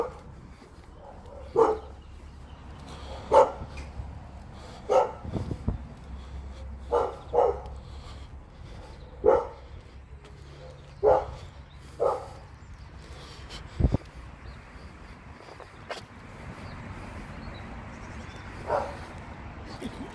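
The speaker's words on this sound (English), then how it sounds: "Dog's barking." A dog barks repeatedly outdoors during a walk, about a dozen separate barks spaced a second or two apart, moderately distant, with footsteps and some background noise.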